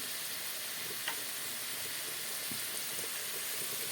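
Potatoes frying in oil in a pan: a soft, even sizzle with faint crackles and an occasional light clink, quiet and continuous.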